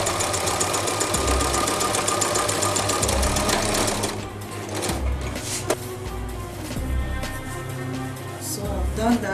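A sewing machine runs a straight stitch with contrast thread on cap fabric, whirring loudly and steadily up close, then easing to a slower, uneven pace partway through.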